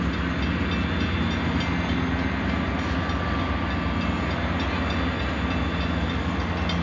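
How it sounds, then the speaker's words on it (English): The Grand Canyon Railway train rolls slowly past near Hermits Rest in the Grand Canyon, a loud, steady, close rumble of wheels and cars that continues without a break. "But that's the train that comes from Williams."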